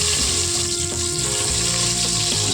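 Steady, loud sizzling of whole small shallots and mustard seeds frying in hot oil, a continuous crackle filling the whole stretch with no voices.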